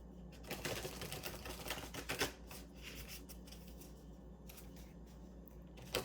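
Divine Masters oracle cards being shuffled, a quick rapid riffling and flicking of card stock, fairly faint and close with no talking.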